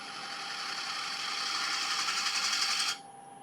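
Spindle gouge cutting a wooden bowl on a spinning lathe, a steady rushing scrape with a faint whine that runs evenly for about three seconds, then cuts off sharply leaving quiet motor hum.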